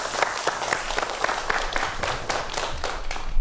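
Lecture audience claps in a steady, moderately loud round of applause, with distinct individual claps audible through the continuous patter.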